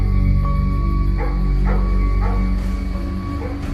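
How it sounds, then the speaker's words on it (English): Dogs bark several times at a distance, short yips spaced irregularly over a loud constant low rumble. "dogs barking."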